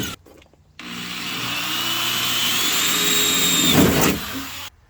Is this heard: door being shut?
no